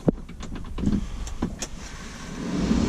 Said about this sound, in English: you hear the fan blowing?